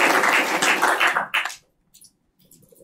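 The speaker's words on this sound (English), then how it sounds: "they deserve a big round of applause." A conference audience applauds a talk on telephony engineering, a dense burst of clapping for about a second and a half that cuts off abruptly, leaving near silence with a few faint stray sounds.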